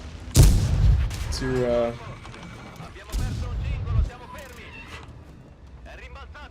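Tank cannon shots boom in World of Tanks, two heavy blasts about three seconds apart, each followed by a rumbling tail, with someone talking over the game sounds.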